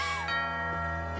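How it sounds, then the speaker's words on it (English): A doorbell in What Remains of Edith Finch rings out in a two-tone ding-dong, the bright chime tones ringing and slowly fading over a steady low hum, with no voices. "Ding dong."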